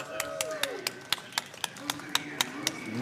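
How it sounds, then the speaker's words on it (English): Scattered clapping for Fractal after a CTWC Tetris match, a sparse run of distinct claps in loose rhythm under a faint voice. "let's give a round of applause to Fractal."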